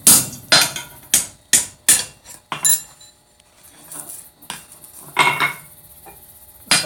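A hammer strikes a drift to drive a rivet out of blacksmith tongs, a series of sharp metallic blows in quick rhythm, close and loud, followed by lighter taps and clinks.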